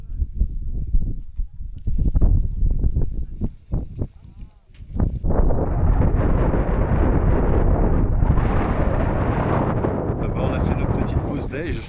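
Strong wind buffets the microphone in a continuous roar on the summit of Mount Etna, with broken outdoor noise and faint movement before the gusts settle into a steady rush.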